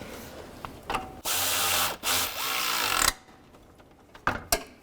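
Bolts being tightened on a radiator cooling fan assembly of a 2006-2011 Cadillac DTS, with a close, loud ratchet or power-driver whir in two sustained bursts, then scattered metallic clicks and taps.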